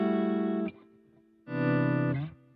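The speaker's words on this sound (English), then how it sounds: "Another really cool one is this slow gear." Two sustained guitar chords swell in through a Boss GX100 slow gear effect, each fading in smoothly with distortion and then cutting off, a brief quiet gap between them.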